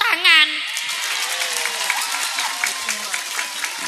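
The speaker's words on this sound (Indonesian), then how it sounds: "tepuk tangan." Applause and hand clapping from the audience at an Islamic sermon gathering, a dense crackle filling the clip, with a voice speaking briefly at the start and talk continuing over the clapping.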